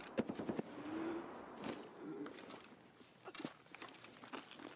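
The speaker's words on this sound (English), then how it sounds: "somebody shooting me" Gunfire in Escape From Tarkov while hunting Shturman: a rapid burst of shots at the start, then scattered sharp reports at middling distance, with brief talk mixed in.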